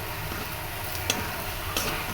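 Ground turmeric, chili, coriander and cumin added to browned food in a hot pan, giving a steady close sizzle and frying hiss with a couple of faint clicks of stirring.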